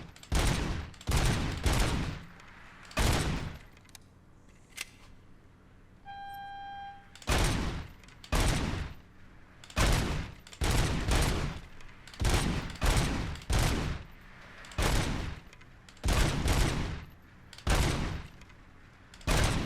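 Automatic gunfire in RoboCop Rogue City during a bank heist: repeated loud bursts in a steady rhythm across the whole stretch, with a brief pause partway where a short electronic beep tone sounds.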